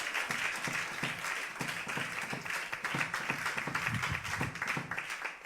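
A church congregation claps steadily, many hands producing a fairly even, rhythmic patter at moderate loudness with no talking.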